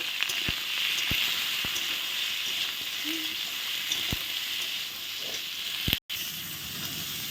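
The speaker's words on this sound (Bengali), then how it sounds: "ফুলকপি দেখো খুব সুন্দর করে একদম ভাজা হয়ে গেছে" Cauliflower pieces fry in a pan with salt and turmeric, giving a constant hissing sizzle with occasional sharp clicks of a utensil and a brief cutoff near the end.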